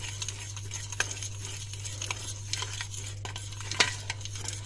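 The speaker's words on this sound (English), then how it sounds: "Just need to stir it so it doesn't burn." A spoon stirs macaroni cheese sauce in a pan over very low heat, with soft scraping and light clinks of utensil on metal at an irregular pace, quiet and close, with no talk.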